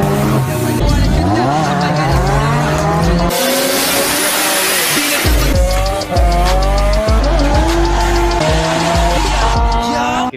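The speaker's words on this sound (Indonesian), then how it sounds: "tiba-tiba MK menyusul dengan menggunakan mobil yang berbeda" Race cars in a street race roar loudly with revving, shifting engines and repeated tire squeals and skids. Passes and accelerations overlap densely, with a brief whooshing burst in the middle.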